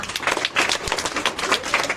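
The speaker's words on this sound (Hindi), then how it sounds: "आशीष के लिए ताली बजाओ।" Children clapping together at a morning school prayer assembly to reward a correct quiz answer, a steady burst of many hands applauding nearby with no talk over it.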